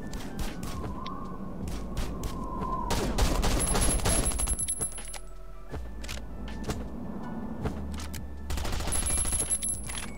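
Rapid semi-automatic gunfire crackles in the survival video game Last Island of Survival, several bursts of sharp shots coming in clusters over a steady background hum of game ambience.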